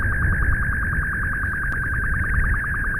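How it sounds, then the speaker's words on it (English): Rapid, steady electronic alert beeps from a science-alert mod in a space program video game repeat in an unbroken high-pitched pulsing tone over a soft hiss, with no one talking. "Those lovely dial-up beeps."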